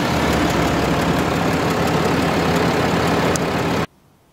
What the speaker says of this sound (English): Here's a look under the hood. It has a V6